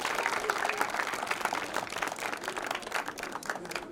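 A school audience at a high school event applauds continuously, a dense wash of many hands clapping from start to finish, fairly close and even.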